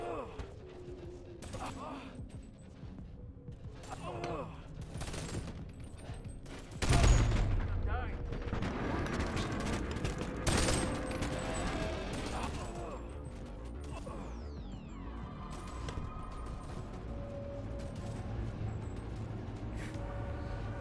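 Repeated bursts of gunfire from the Boneworks video game, some rapid and machine-gun-like and others single shots, with mechanical clatter and someone talking over the action throughout.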